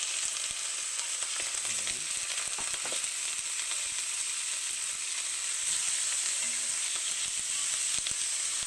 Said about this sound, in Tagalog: Dahil mainit na yung ating oil, so i-fry muna natin yung chicken.